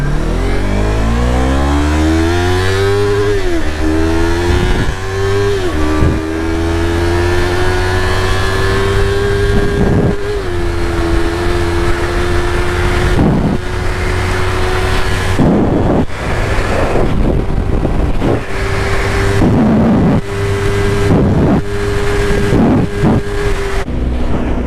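A Yamaha R3 motorcycle accelerates hard through its gears, the engine climbing close to the rev limiter in each gear, with brief drops at the shifts followed by a long sustained high-rev pull up into fourth, loud and close with wind noise.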